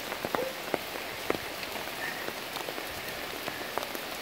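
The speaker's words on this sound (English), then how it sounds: "we've had a lot of rain." Steady rain pours down in Surrey near the James River during flash flooding, a dense continuous hiss with scattered sharper drops and drips striking surfaces close by.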